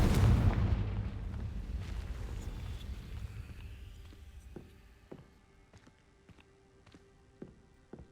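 A fiery Confringo blast spell explodes in the Hogwarts Legacy video game, opening with a loud, booming burst that rumbles and fades over several seconds, followed by a few faint, sharp clicks and taps.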